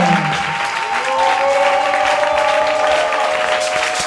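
A church congregation at a Sunday service applauds loudly and steadily, dense continuous clapping with voices and sustained tones ringing through the hall.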